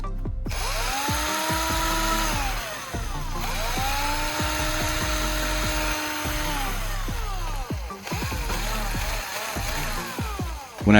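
A cordless drill, its battery just reattached, revs up and winds down in three strong, close trigger pulls, the motor whine rising and falling smoothly each time.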